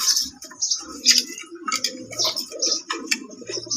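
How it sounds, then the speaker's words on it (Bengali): A pair of fancy white Lakka pigeons sit in a loft, their soft, repeated throaty coos close by and mixed with faint ticking sounds. "এই নটটা হাড়িতে বসে আছে, সাদা কবুতর"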